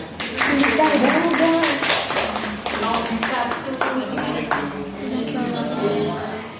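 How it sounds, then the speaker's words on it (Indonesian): Students clapping in a classroom, brisk bursts of handclaps mixed with chatter and voices, the clapping ragged and close while people talk over it. "tepuk tangan"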